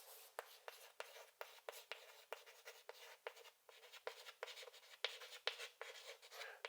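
Chalk or marker scratching across a board during a math lesson, a steady run of short strokes and taps at close range, fairly quiet, with no talk.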